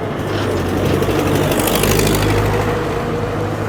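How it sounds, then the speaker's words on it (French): Steady, loud engine drone from a small tractor being overtaken on the road, heard continuously throughout with no talking. "Hop, je viens de doubler un petit tracteur."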